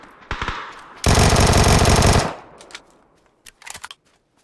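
Video game gunfire: a few sharp gunshots early on, then a dense burst of rapid automatic fire for about a second, followed by scattered fainter shots.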